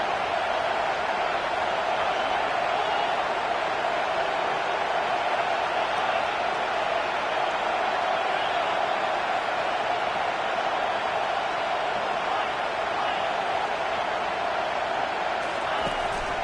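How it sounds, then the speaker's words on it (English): A home crowd roars at an American football game on third down as the defense tries to get off the field, a loud, steady wash of massed voices that holds for the whole stretch. "Here comes this home crowd as the defense tries to get off the field on 3rd down."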